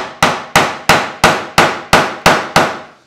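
A mallet drives a wood chisel into wood for a belt display rack, striking eight sharp, evenly spaced knocks close up, each decaying quickly before the next.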